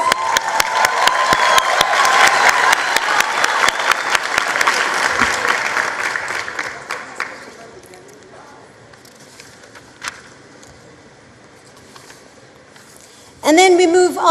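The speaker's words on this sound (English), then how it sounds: "Another round of applause." At a matric results announcement, an audience gives strong applause that holds for about seven seconds and then fades out. Quieter room sound follows, and someone starts speaking at the very end.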